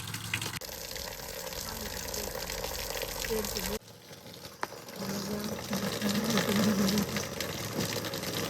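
Water stream pouring from a cow-mouth spout at a site in Uttarakhand, a continuous gushing splash that briefly drops out midway then resumes, with a voice talking over it.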